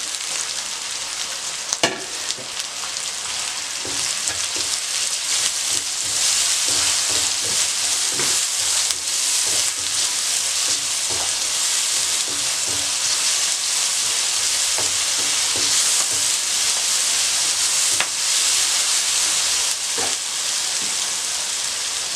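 Spices, salt and chili sizzling in hot oil in a pot while cooking chickpea pulao, a loud, steady hiss of frying that runs throughout, with a few faint scrapes of stirring and no talk.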